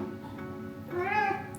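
Cat meowing in a Bali morning setting, a single rising and falling meow, close and clear, over a low background hum.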